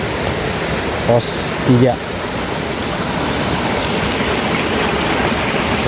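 Steady rushing water flows between rocks along a hiking trail at Kawah Ratu near Bogor, a broad continuous wash with a person speaking briefly over it.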